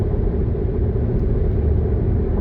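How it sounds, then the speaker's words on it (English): Car driving on the road, heard from inside the cabin as a steady, dense low road rumble and engine drone, continuous with no talk. "Driving an hour or so back to my office."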